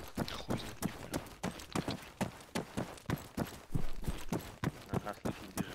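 Running footsteps in a capture-the-flag video game match, a steady series of sharp evenly spaced thuds close by, about two per second.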